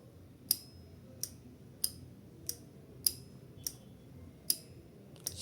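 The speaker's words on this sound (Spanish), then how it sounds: "se escucha un pequeño clic dentro de nuestro relé" Sharp mechanical clicks from a 5-pin automotive relay repeat at a steady pace, about eight in all, each crisp and close over a low background hum.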